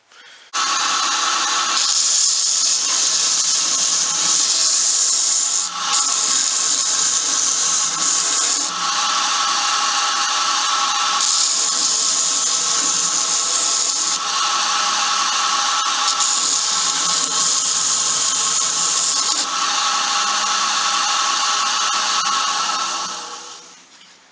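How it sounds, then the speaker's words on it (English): Steady abrasive rubbing smooths saw marks off a goat horn being made into a Viking blowing horn, a continuous raspy grind in long close strokes with brief pauses, and no talk. "But now I will just smoothen out saw marks to make it more pleasant, and it's more easy to see all the surface."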